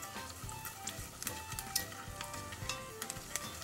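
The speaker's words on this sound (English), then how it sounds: "Let the spices cook a little bit." Garam masala and whole cumin sizzle and fry in a pot for a dal, a steady crackling hiss with scattered sharp pops and light stirring scrapes throughout, close and fairly quiet.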